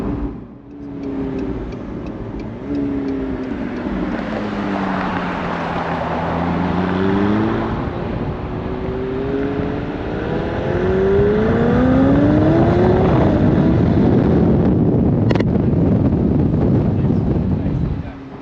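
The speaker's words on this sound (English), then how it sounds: "So we took this 2021 McLaren out. This is a 720P actually, Spider, hardtop convertible." A 2021 McLaren 720S Spider hardtop convertible driving on the road, its engine note swelling and falling through long sweeps, then building louder under heavy wind and road roar.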